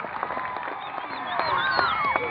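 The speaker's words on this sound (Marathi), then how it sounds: "जोरदार टाळ्या वाजूया विजय पावले." Crowd applause and cheering at a cricket match final in Pune, heard at a distance as a steady wash of clapping beneath a commentator's voice.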